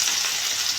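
Garlic frying in hot mustard oil in a wok, a steady, close, bright sizzle throughout with no talk.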